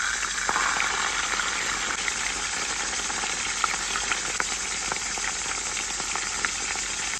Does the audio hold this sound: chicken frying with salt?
yes